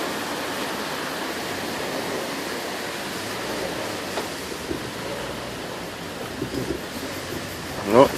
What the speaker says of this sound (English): Lots of times I like to stop and listen to the water run.